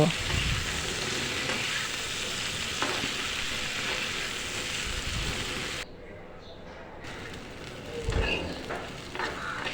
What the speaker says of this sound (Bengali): এখন আমি খুব সুন্দর করে এগুলো একদম লাল লাল করে ভেজে নেব